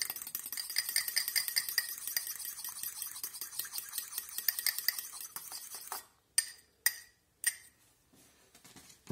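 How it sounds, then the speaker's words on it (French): Egg yolk beaten with a fork in a bowl while making croissants: rapid, steady metallic clicking and scraping for several seconds, then a few separate sharp taps on the rim, close and clear with no talking. "On va casser le jaune avec la fourchette"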